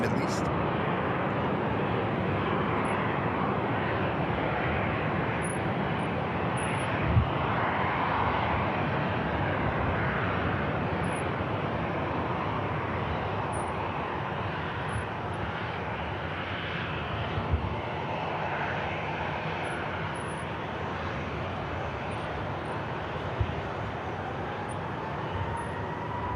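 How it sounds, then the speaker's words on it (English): A Qatar Airways A350 from Doha touches down at Manchester Airport, its engines producing a broad, steady roar with a few faint thumps, while someone talks over the noise. "puff of smoke is from this awesome Qatar 350 touching down from Doha in the Middle East"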